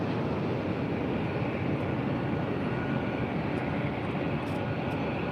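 A Delta Air Lines Boeing 737-900ER from Seattle arrives at LAX, its engines a continuous, fairly loud low roar with no voices over it.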